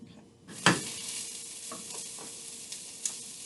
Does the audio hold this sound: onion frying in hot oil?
yes